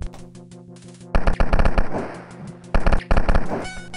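Rapid bursts of automatic gunfire from the video game Spear of Destiny crackle loudly in several clusters, separated by short pauses and softer electronic background sounds.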